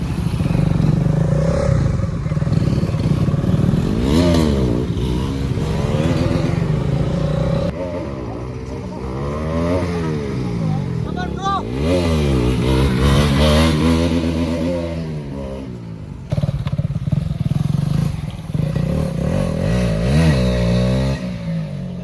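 A motorcycle revs hard in first gear during a wheelie on a Republic Day group ride, its engine pitch sweeping up and down repeatedly, loud and close, with other riders' engines and some voices around.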